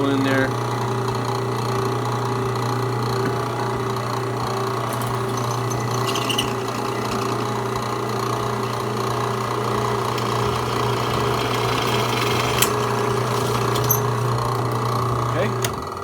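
A drill press bores holes in metal pipe, a steady droning hum with a constant low tone running throughout, faint clicks and ticks on top, a voice speaking briefly beneath the machine.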